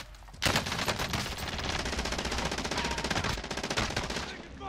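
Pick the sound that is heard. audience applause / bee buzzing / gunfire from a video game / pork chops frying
gunfire from a video game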